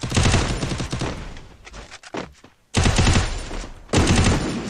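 Rapid bursts of automatic gunfire in a 4v4 video game match, loud and close, broken by a short pause with a few scattered shots before the firing resumes.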